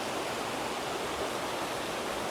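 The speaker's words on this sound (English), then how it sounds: "all of the cascades that are in front of this waterfall, and then the waterfall itself" A waterfall and the cascades below it in Wales roar in a dense, unbroken rush of falling water, loud and close, with no voices.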